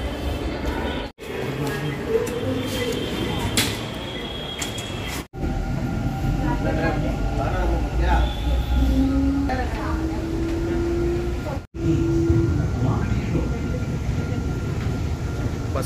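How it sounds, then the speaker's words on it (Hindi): A metro train runs steadily with a continuous rumble and clatter of wheels on the rails, with occasional brief squeals and short gaps in the sound. "हम हैं मेट्रो में"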